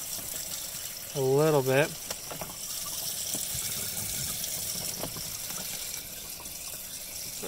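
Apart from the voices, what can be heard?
water running to rinse in RV washer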